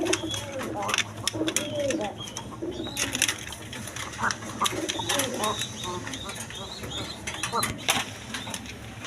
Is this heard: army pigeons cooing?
yes